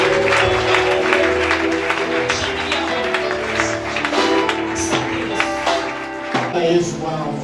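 Church congregation at a Sunday service applauding, a dense, continuous clapping from a crowd with voices and music blended underneath throughout.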